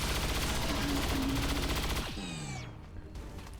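Rapid turret gunfire in the video game XCOM 2 fires a dense burst of loud shots for about two seconds, then stops, leaving descending mechanical whirs and fading game effects.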